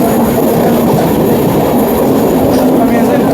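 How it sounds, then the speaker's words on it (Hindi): A New Delhi–Howrah Duronto Express train passes close by, a loud steady roar of rolling wagons with rhythmic clatter and a faint wheel squeal running through the whole stretch. "New Delhi Howrah Duronto express."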